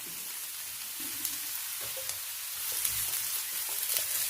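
Brinjal and green chillies are sautéed in oil with garlic for a thoducurry. A soft, steady sizzle runs close by, with a few light stirring clicks, and it grows slightly louder toward the end.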